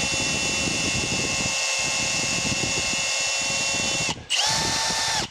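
A power drill bores a straight hole into a wooden door, its motor whining steadily up close under a grinding bite, then cutting out briefly before spinning up again.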